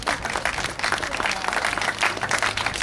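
An audience claps enthusiastically, the individual claps distinct and lively, with a faint murmur of the crowd beneath.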